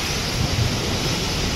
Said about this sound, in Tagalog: Grabe ang hangin, guys.